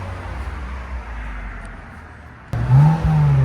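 Lexus IS 350 with a 3.5-litre V6 and Valvetronic exhaust, valves closed, heard outdoors: a quiet low idle, then a sudden brief revving swell that settles back to a steadier, louder hum.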